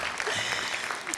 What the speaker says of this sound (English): Yeah, clap for that, that's true.